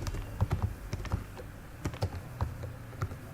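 A computer keyboard clogged with dirt and dust being typed on, a quiet, uneven run of soft clicks and taps at close range, with no talking.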